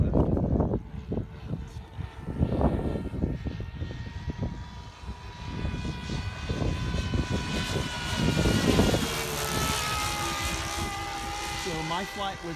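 A Seagull model Cessna 337 Skymaster flies with a loud, steady propeller drone. The pitch rises and shifts as it passes near and then moves off, with a few faint voices underneath.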